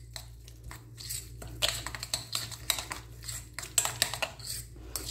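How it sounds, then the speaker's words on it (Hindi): Chicken pieces being mixed with spices in a bowl, producing close wet squelches, soft clinks and irregular clattering strokes over a low steady hum. "इनको अच्छे तरीके से मिक्स कर लेंगे"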